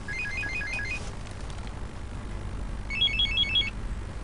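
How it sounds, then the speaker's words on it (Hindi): A phone rings in two bursts of rapid trilling electronic tones, the second after a pause, over a low steady background hum. "सुबह सुबह किसका फोन आ गया?"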